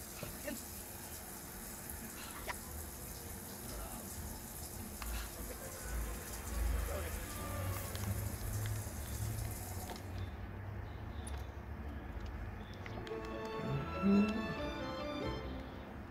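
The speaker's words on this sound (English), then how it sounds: "Took a shower" Shower water running steadily in The Sims 4, a continuous spray-like wash with game sounds and music layered over it, the spray cutting off partway through before other in-game noises.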